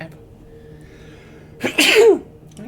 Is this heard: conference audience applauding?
no